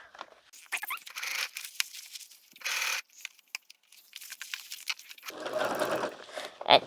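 A sewing machine stitches a zipper into a purse pocket in short, separate bursts of whirring, broken by pauses and light rustling of fabric, with a longer run near the end.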